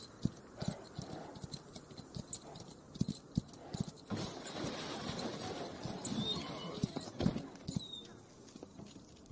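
Horses' hooves clip-clop in the Western video game A Western Drama, an irregular run of soft, fairly close thuds over a busy ambient frontier background, with no talk.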